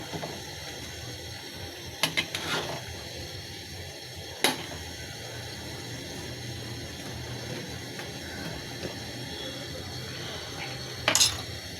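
Whole cumin stirred into a pot of cooking gourd: sparse metallic clinks and scrapes of a utensil against the pot, a few sharp taps spaced apart over a steady low kitchen background, no talking.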